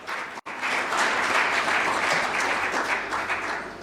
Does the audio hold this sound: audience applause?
yes